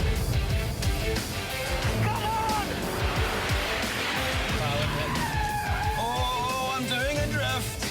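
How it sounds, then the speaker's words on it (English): A car drifts with squealing tires and a revving engine that climbs in pitch, heard close and loud while someone talks excitedly over it. "Oh, I'm doing a drift."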